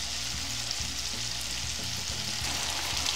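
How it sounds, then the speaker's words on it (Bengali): Spice paste for a salted hilsa curry fries in a pan with an even, close sizzle and faint crackle that holds steady throughout, no voices present. "মশলাটা কষিয়ে নিচ্ছি।"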